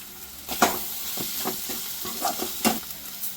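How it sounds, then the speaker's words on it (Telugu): Ginger garlic paste and chopped green chillies sizzle in hot oil in a pan, a soft crackling hiss broken by a few sharp scrapes and clinks of stirring, close and fairly quiet, with no talking. "అల్లం వెల్లుల్లి పేస్ట్ కూడా పచ్చివాసన పోయేంత వరకు వేయించుకోండి."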